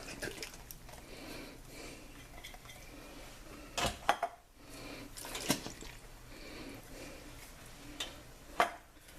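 Canned diced tomatoes with green chilies are tipped into a pot of homemade chili, with wet plops, metal clinks of can and pot, and a few sharp clanks over a low background.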